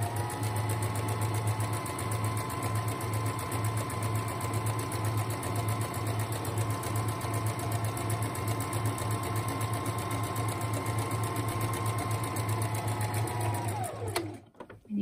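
A sewing machine runs continuously stitching a fabric drawstring bag, a steady close mechanical hum and rapid needle chatter that holds for the whole stretch before stopping abruptly at the end.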